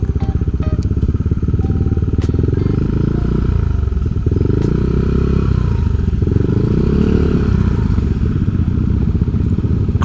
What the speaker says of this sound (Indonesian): knalpot saya yang agem-agem gini kayaknya fine aja, nggak terlalu berisik